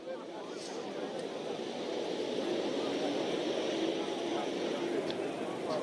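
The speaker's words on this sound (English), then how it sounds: "The sound of the engine, of course, now getting bigger and louder." A steady, loud Boeing airliner jet engine roar builds gradually, a broad continuous rumble that grows slightly louder and fuller over several seconds.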